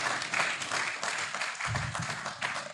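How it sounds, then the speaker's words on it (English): Audience applauding the minister at an official East African Community market launch event, moderate clapping that continues steadily with a slight surge partway through. "Let us give a hand of applause to the Honorable Minister."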